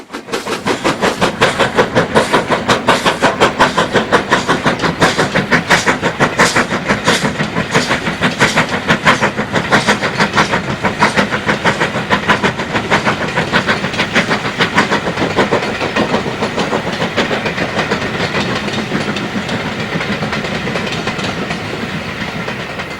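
British steam locomotive 48151 working hard on the Inverness to Thurso line, its rapid chuffing exhaust and rolling wheel beat loud and continuous throughout, with no voices.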